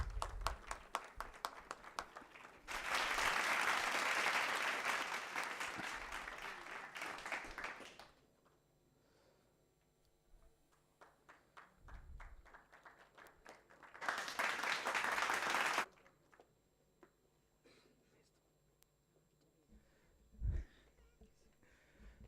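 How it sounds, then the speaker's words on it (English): Two bursts of audience applause at an international conference on sustainable computational technologies, each a loud wash of clapping lasting several seconds, separated by a quiet stretch with faint voices and room noise. "Please have a big round of applause for Narayan sir."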